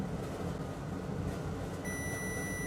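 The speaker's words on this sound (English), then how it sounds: "Meter in continuity mode." A multimeter in continuity mode, probing a 2012 MacBook Pro logic board during repair, sounds one sustained high-pitched beep that starts partway through over a steady background hum.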